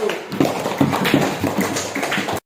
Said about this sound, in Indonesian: Berikan apresiasi dengan tepuk tangan untuk kelompok 1.